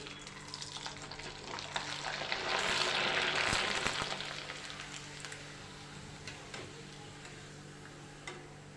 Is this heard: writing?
no